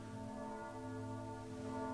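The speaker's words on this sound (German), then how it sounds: "wenn die Glocken hier in Seewald anfangen zu klingen" Church bells ring out in Seewald, a steady sustained tolling with layered resonant tones holding throughout, moderately loud and without talk over it.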